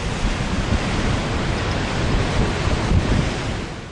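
Salto Grande waterfall on the Paine River in Torres del Paine roars with a dense, steady rush of falling water, loud and continuous throughout, with wind buffeting the microphone.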